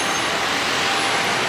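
Steady broadband traffic rumble from a city bus of Cali's MIO mass transit system, a continuous close engine and road roar with no talk.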